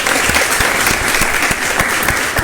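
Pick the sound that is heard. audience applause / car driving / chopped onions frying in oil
audience applause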